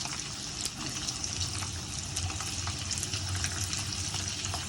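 Steady hissing sizzle of dried red chillies frying in hot oil for gongura pickle, with scattered tiny crackles and pops throughout and a low hum underneath.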